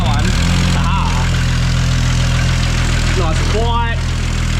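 A project car engine built toward 1000hp idles loudly and steadily just after starting, with a deep rhythmic rumble and a slight exhaust leak, while a person speaks briefly over it.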